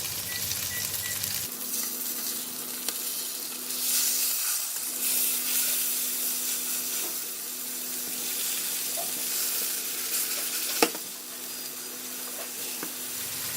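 Chicken grilling in a hot pan gives off a steady, moderately loud sizzle and hiss that runs nearly the whole time, with one sharp tap of the pan partway through and no talking.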